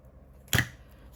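A single quick snip of scissors trimming a sheet of paper for a homemade folio made from envelopes and scraps, one short crisp cut standing alone against quiet room tone.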